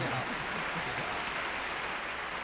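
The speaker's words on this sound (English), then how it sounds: "Dude, that sounds like a small crowd." Brief applause from a small crowd in a radio studio, a dense even patter of clapping that stays steady and close for a couple of seconds.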